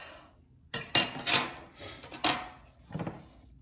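Rice being mixed in a bowl with a utensil comes through as a few close bursts of scraping and clinking against the dish, separated by short pauses, with no talking.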